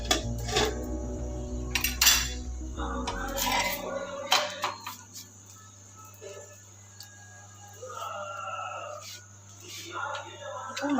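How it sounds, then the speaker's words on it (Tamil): A lid goes onto a pot of simmering mushroom gravy with a few close metallic clanks and clinks. Lower cookware sounds and a steady background hum follow, with no speech. "நல்லா அப்படியே மூடி போட்டு வச்சிடணும்."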